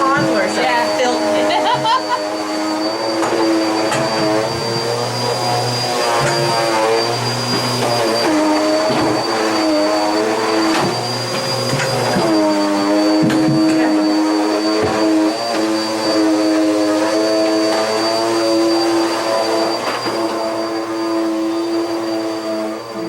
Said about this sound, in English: So is that vacuum cleaner gas powered? No, it's got an electric cord.